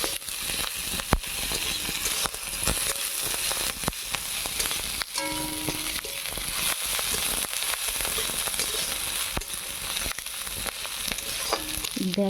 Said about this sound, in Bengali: এখন এর মধ্যে দিয়ে দেব কাঁচা লঙ্কা চেরা। কাঁচা লঙ্কা চেরা দিয়ে কিছুক্ষণ নেড়ে চেড়ে নেব।